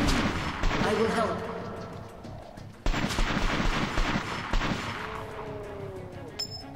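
Gunfire in the video game Metro Last Light: bursts of rapid shots and booming blasts pile up into a chaotic firefight, with voices talking over the shooting.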